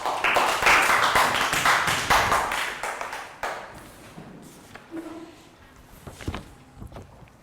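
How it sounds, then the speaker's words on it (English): Young students in a Year 3 health education class clap for a classmate, a burst of brisk applause that fades after a few seconds, leaving quieter taps and faint movement noise in the room. "Round of applause for Lakau."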